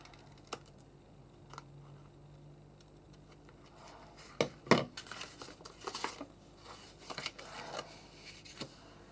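Scissors trim around paper for a journal cover in a quiet room, giving scattered soft snips and crinkles, with a cluster of louder cuts and paper rustles midway.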